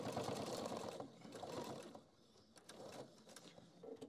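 A walking-foot sewing machine with double feed stitches through thick canvas, a close rapid mechanical whirr in bursts that ease off and pick up again, with short clicks between runs.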